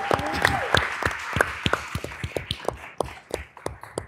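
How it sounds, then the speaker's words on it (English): A health policy summit audience claps, the applause starting fuller and quickly thinning into sparse, separate hand claps that fade out. "So a round of applause for them."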